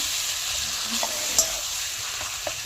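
Fried potatoes stirred into mutton kosha in a pan, a steady sizzle with a few spoon scrapes and one bright clink against the pan, close and moderately loud, with no one speaking.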